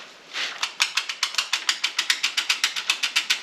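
Ratchet clicking quickly and evenly while removing the cam gear from a Mopar 400 engine, about twenty sharp clicks in a steady rhythm after a brief initial scrape, close and clear with no talk.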